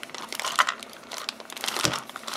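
A plastic bag holding model kit parts for a RAF 251 scale model crinkles and crackles up close in irregular bursts, with no talk over it.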